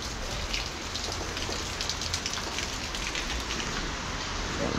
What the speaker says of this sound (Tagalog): hindi na humupa yung ulan talaga